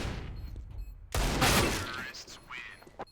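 Counter-Strike rifle taps at long range: a burst of several quick gunshots, then a few scattered single shots, set within game ambience while a commentator talks over the action.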